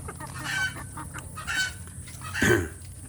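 Free-range village chickens cluck in a small flock: scattered soft clucks at close range, then a louder, sharper call near the end, with no talk.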